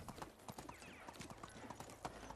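Horse hooves clip-clop at an even trot in Medieval Dynasty, a steady close rhythm of sharp hoof strikes repeating a few times per second, with no voice over them.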